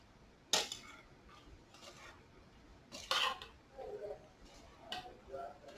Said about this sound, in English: you stir it up